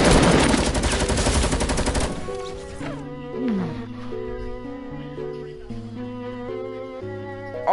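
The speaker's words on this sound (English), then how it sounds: "Oh, I got shot from the back." Dense rapid gunfire from a Fortnite match fills the first two seconds, loud and continuous, then gives way to quieter game sounds and a melodic tone pattern.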